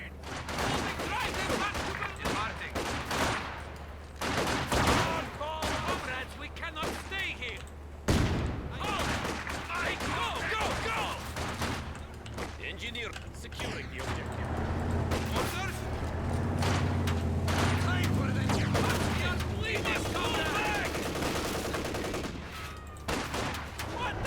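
Gunfire in the WWII strategy game Company of Heroes 2, with rapid bursts of rifle and machine-gun shots cracking repeatedly across the scene, mixed with battle noise and shouted unit voice lines.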